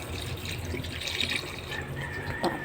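Water poured into a pot for chicken tinola already holding chayote, salt and seasoning, a quiet continuous splashing and trickling fill in a home kitchen, with a brief splash near the end.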